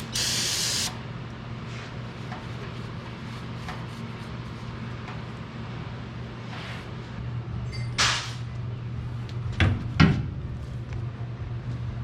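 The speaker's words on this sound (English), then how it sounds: "I'm gonna spray this off and clean it up real quick." A car part from a 1963 Impala SS is sprayed off with a short hissing burst, followed by faint clattering and handling noises over a steady low hum.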